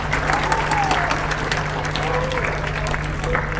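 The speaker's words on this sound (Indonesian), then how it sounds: "Tepuk tangan untuk SMP Bina Amal." An audience at a junior high school graduation in Semarang breaks into sustained applause, a steady, full clapping that fills the hall over a low mains hum, with faint voices and a brief tonal sound in the background.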